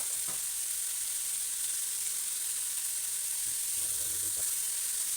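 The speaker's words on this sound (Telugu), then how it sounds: "ఇక ఇదంతా ఈ పచ్చిమిర్చి ప్లస్ ఈ చిక్కుడుకాయ ఉల్లిగడ్డ మంచిగా వేపుకోవాలి." Green chilies, broad beans and onion fry in a pan with a constant bright, hissing sizzle, close and even, with a few faint knocks from stirring.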